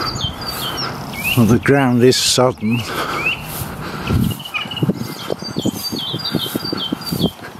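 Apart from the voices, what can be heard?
birds singing in the countryside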